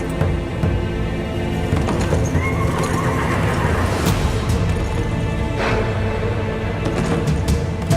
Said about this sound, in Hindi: शहजादे अलाउद्दीन का घोड़ा अकेला आ रहा है।